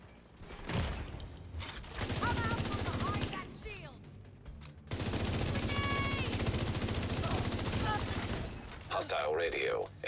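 Rapid bursts of gunfire from a video game, dense machine-gun volleys with shattering and mechanical clatter, loud and sustained across most of the clip with a brief pause near the middle.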